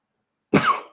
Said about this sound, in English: Coughing all over the place.